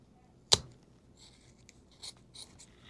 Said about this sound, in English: these are the scissors that I use for my zippers, and I'm just gonna trim that right off